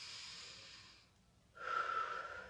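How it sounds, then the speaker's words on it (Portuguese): During a group relaxation exercise in a theatre workshop, one slow deep breath is drawn in and let out, then another starts with a soft nasal rasp, close and quiet with no talking. "respirando fundo"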